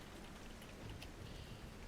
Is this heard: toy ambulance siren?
no